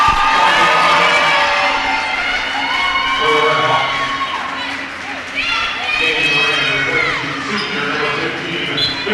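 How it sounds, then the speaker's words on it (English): Basketball crowd at a girls high school game gives an ovation, a loud sustained wash of cheering, whoops and shouts filling the gym, swelling and dipping slightly without pause. "Trowbridge will get a nice ovation from the crowd as Haley Minnick comes into the game"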